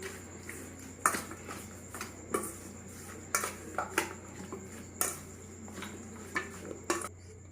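Metal utensil clinking and scraping against a bowl as 500 grams of chicken is mixed with lemon and marinade, irregular light knocks and taps at close range, with no talking.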